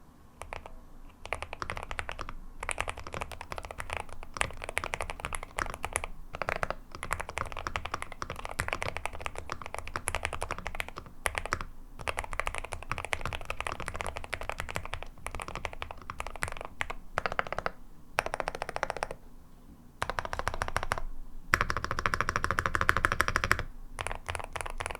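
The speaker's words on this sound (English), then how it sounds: "let's do a really quick sound test of the Field75 HE V2 so that you can get an idea of how these magnetic Jade Dragon N switches sound" Steady, fast typing on a NuPhy Field75 HE V2 keyboard with magnetic Jade Dragon switches fills the clip, dense rapid keystrokes close up with brief pauses and a louder flurry near the end, no talking.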